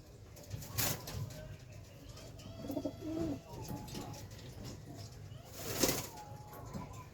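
Soft, low cooing from a pigeon with an eye infection comes from close by, with a brief flutter of wings and faint background noise.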